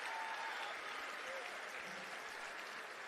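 Students and parents in a high school gym clap steadily for departing Chesterton boys basketball seniors, sustained dense applause filling the space, with faint crowd voices mixed underneath.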